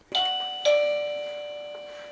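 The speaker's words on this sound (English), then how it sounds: "The system can also be used to activate the gate bell." A two-tone electronic gate doorbell chime rings close by, two bright notes with the second held and slowly fading, no voices.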